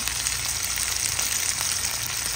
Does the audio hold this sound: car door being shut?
no